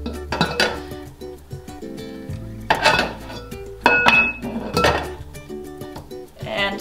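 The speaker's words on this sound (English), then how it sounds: "I'm gonna go ahead and place the lid on top." A heavy metal lid set onto an All American 925 pressure canner loaded with jars full of pinto beans, with loud close clanks, scrapes and ringing metallic knocks in uneven bursts.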